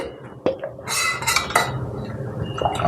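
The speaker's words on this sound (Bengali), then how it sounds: "দিয়ে এবারে আমি জল মেশাবো আস্তে আস্তে করে।" Water is stirred into soru chakli batter in a bowl, with a spoon clinking and scraping against the bowl in short bursts, a few sharp knocks among softer wet mixing sounds.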